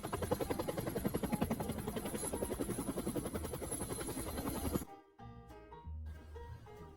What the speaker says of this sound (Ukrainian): гелікоптер